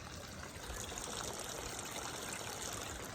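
A small garden waterfall trickles down into a series of stepladder ponds, giving a steady, close, continuous splash and dribble of water with no voices over it.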